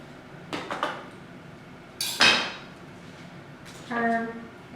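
A kitchen knife cuts a tomato into small pieces on a cutting mat. A few close, crisp knocks and one sharper slicing crunch are followed by a light ringing clink, with no talking.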